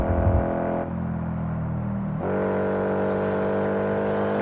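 Racing car engine in the DTC racing video game, a steady harmonic engine drone that drops in pitch and then climbs again after a gear change near the middle, continuous and loud with no talking.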